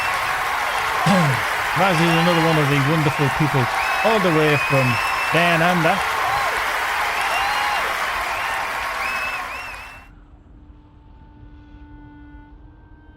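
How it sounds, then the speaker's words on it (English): Applause and crowd noise from a LOTRO game livestream, a broad steady clatter of clapping under someone talking, before cutting off into quiet near the end. "Have a confetti round of applause"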